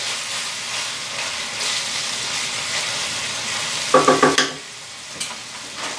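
Beef being browned and stirred in an Instant Pot, a steady close hiss and sizzle with a quick run of sharp clanking spoon scrapes partway through.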